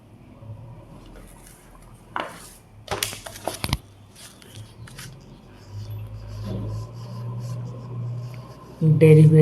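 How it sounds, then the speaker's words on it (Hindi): Chalk or a marker scrapes across a classroom board while a calculus formula is being written, giving short scratchy strokes in bursts, with a teacher talking quietly underneath. "जिसे यहाँ लिखते हैं"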